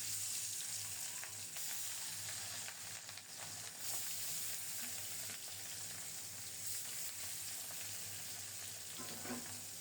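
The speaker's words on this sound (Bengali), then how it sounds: "মাছ ভাজার জন্য কড়াইতে সরিষার তেল দিলাম" Pieces of rohu fish fry in mustard oil in a wok, a steady close sizzle with a few brief shifts as they are turned, continuous with no talking.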